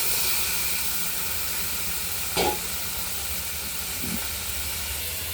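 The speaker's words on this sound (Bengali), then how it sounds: "এবার আমি সিদ্ধ করে রাখা আলুগুলো পেঁয়াজে দিয়ে দিলাম" Boiled potatoes added to browned onions frying in a pan, giving a steady, loud, close sizzle and hiss with one brief knock partway through.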